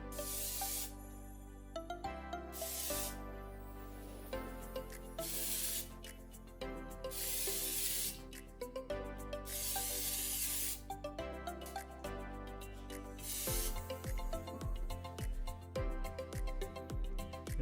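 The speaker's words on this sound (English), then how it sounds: "spray some olive oil onto the lollipop chicken drumsticks" Olive oil spritzed from a spray bottle onto lollipop chicken drumsticks before air frying, in repeated short hissing bursts over a bed of background music.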